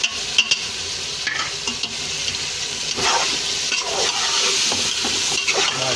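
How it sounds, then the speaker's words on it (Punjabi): Pieces of meat (gosht) fried in a pan after a tempering of spices, a steady sizzle broken by scraping stirs and clinks of the spoon, close and fairly loud, no voices. "ਹੁਣ ਗੋਸ਼ਤ ਨੂੰ ਫਰਾਈ ਕਰਾਂਗੇ।"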